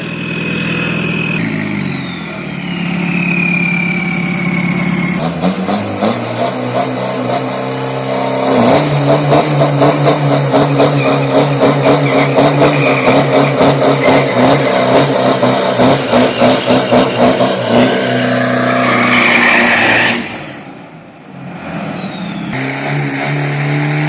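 A new Isuzu 3000 race engine on test revs hard in loud, rapid pulsing bursts, with quieter idling between the pushes and a brief dip near the end.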